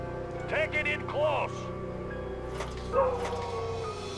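Dogs in the Red Alert 2 video game give a few short, high yipping barks in separate bursts, with someone talking over the game sounds.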